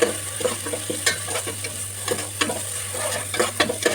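Crushed ginger, green chilli and garlic sauté in oil for a Kozhikode biryani masala, giving a steady close sizzle broken by frequent scraping stirs. No one speaks.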